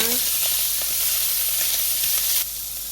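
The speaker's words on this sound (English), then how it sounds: "Now that the sausages are nice and brown, we're going to add the onions. And give it a quick stir." Chopped onions tossed into a pan of browned sausages and stirred give a loud, steady sizzle with soft scraping, and the hiss eases off near the end.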